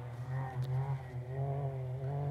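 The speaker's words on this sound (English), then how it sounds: "That Maverick just echoes everywhere." A Can-Am Maverick X3 XMR side-by-side engine drones and revs in the distance, its steady, faintly echoing tone rising and falling slightly, with no one speaking.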